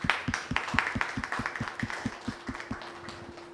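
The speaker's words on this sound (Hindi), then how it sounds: "हम आप सबके लिए एक ज़ोरदार ताली बजाना चाहते हैं।" Rhythmic clapping for the teachers after a call for a big round of applause, steady sharp claps from a small group close by, a low hum running underneath.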